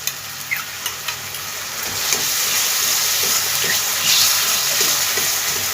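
Turmeric, cumin and coriander powder mixed with water poured into a hot pan of cabbage and paneer, a few soft drips giving way to a steady loud wet sizzle and hiss that swells near the end.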